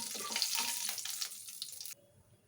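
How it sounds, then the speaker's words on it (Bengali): Cumin and black cumin seeds, with bay leaf and dried chillies, sizzle in hot oil: a close, steady frying hiss for about two seconds that then cuts off to near quiet. "সাদা জিরে খানিকটা, কালো জিরে, এগুলো দিয়ে একটুখানি হালকা হালকা লাল লাল করে ভেজে নেব।"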